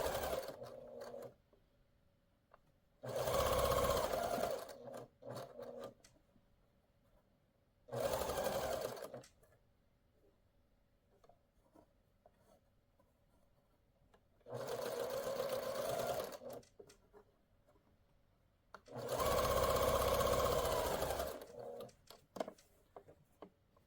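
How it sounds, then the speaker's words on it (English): Sewing machine stitching nested seams on quilt blocks cut from 10 inch squares, running in four or five distinct bursts of a few seconds each, with quiet pauses between runs and no talking. "So we're going to get our seams nested and go ahead and sew this."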